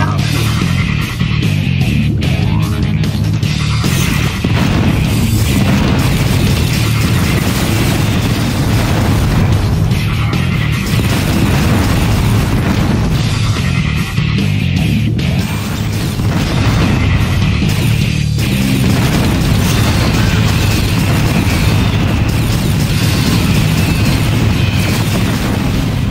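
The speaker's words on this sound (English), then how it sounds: "Let's test out the golf cannon on the diamond claw." Gauss cannon fire and explosions in the Descent 2 video game against the Diamond Claw boss: loud, continuous booms and crashes roll on without pause, heavy and close throughout.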